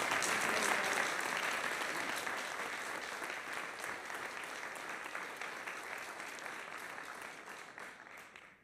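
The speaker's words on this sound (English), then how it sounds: "Commissioners, if you would please lead us in a round of applause." A round of applause at a county commissioners meeting: sustained clapping from a room of attendees, loud at first and slowly thinning out before stopping at the end, with no talking over it.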